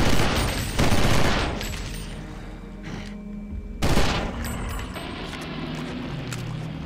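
Heavy gunfire from the video game Eternal Darkness, loud and close, with two long automatic bursts separated by a short pause. Booming reverberation trails off after each burst.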